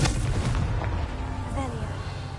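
A Confringo fire spell blast in Hogwarts Legacy on PS5, a booming burst that rolls on as a heavy rumble, with game sounds and a voice layered beneath.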